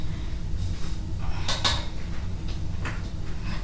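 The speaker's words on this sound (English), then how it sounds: "I'm going to scrape down the bowl to make sure that all that flour" A spatula scrapes around a mixing bowl of buttermilk pecan pound cake batter, giving a few short clattering scrapes and knocks against steady room noise, with no talking.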